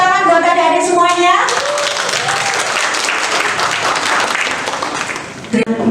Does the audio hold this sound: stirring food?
no